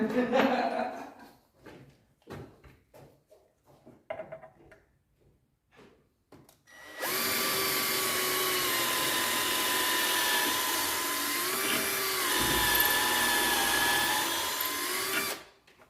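A power drill fitted with a blunt 6 mm bit bores into oak during work on a solid oak table. The motor whines steadily for several seconds after some scattered clicks and workshop knocks, near and loud, with a short dip partway through.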